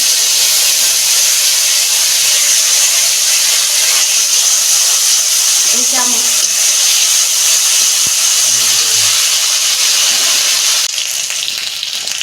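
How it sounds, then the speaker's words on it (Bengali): Panch phoron whole spices with a bay leaf sizzling in hot oil in a pan, a steady, loud, continuous hiss throughout with a few faint clinks. "পাঁচ ফোড়ন ফোড়নটাকে আমি ভেজে নেবো"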